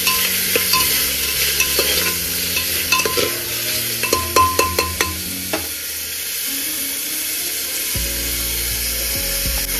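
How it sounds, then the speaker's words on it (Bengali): Beans, capsicum, carrot and sweet potato are stir-fried in a little oil, giving a steady sizzle with a run of quick scraping and clacking strokes in the middle before the sound settles. "এটা দিয়ে ভালো করে নেড়ে নেবো, একটু হালকা করে অল্প তেল দিয়ে একটু সতে করে নেবো।"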